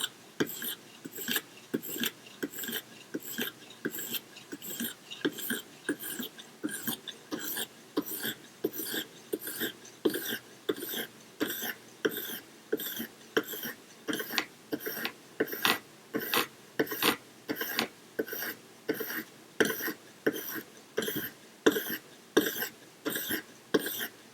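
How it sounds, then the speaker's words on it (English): A Lansky sharpening stone rasps across a knife blade in rapid, even strokes, a close scraping rhythm that repeats steadily without any talk. "I'm just gliding that stone across the blade."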